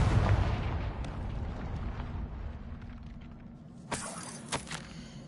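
Fiery blast from a Confringo spell in a Harry Potter video game: a booming explosion with a long rumbling tail at the start, then two sharp cracking bursts near the end.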